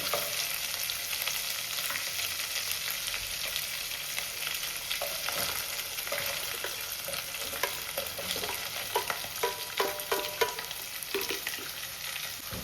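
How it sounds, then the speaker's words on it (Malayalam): Chopped onions and green chillies sauté in a hot non-stick pan with coconut-flavoured chicken perattu being prepared, giving a steady sizzle broken by frequent scraping and clinking of stirring, close and alone with no voices. "ഇതൊന്ന് നന്നായി വഴറ്റിയെടുക്കണം കേട്ടോ"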